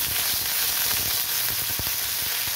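Garlic and ginger paste hits hot oil already seasoned with asafoetida, cooking for a pea ghugni; a dense, steady sizzle fills the scene, with a few soft stirring knocks scattered through.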